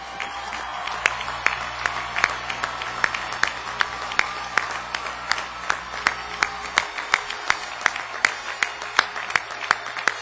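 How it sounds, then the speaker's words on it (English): A commencement ceremony audience for the College of Letters, Arts, and Social Sciences claps in a steady rhythmic beat, sharp even claps repeating about three times a second throughout over a low room hum. "applause."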